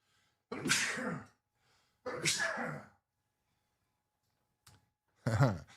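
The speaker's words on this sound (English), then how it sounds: "I do have a sneeze coming out." Two loud sneezes close together, then a brief faint sound and a third forceful sneeze after a pause, close to the mic with quiet between.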